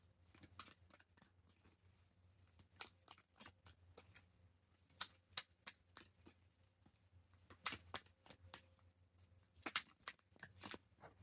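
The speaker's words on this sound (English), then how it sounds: "As I'm shuffling the deck" A deck of cards being shuffled, a quiet series of crisp riffling bursts and soft slaps at an uneven pace, close by with no talking.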